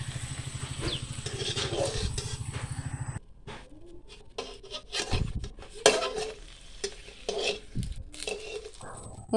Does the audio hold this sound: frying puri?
yes